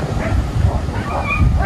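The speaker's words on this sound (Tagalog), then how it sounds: "may mga aso." Dogs at a beach resort yip and whimper in short, scattered bursts over steady wind and surf noise, with no clear loud barking and no one talking.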